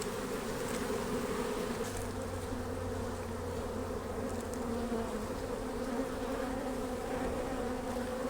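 Honeybees buzzing in an open beehive during a spring hive rotation, a dense, steady, close drone that holds evenly throughout, with a low hum layered beneath.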